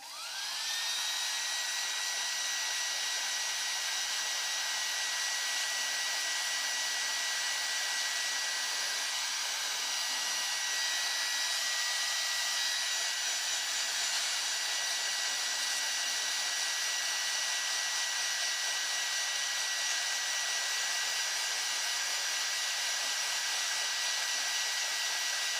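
A heat gun blows a steady, loud hot-air whoosh for about twenty-five seconds while shrinking a heat-shrink ring onto a kite part, starting abruptly and staying even throughout.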